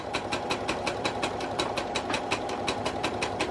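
A sewing machine runs steadily while stitching stretch fabric, its needle pounding in a fast, even rhythm of close, sharp mechanical beats with a running motor hum beneath.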